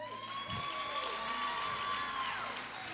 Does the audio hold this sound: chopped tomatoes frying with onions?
no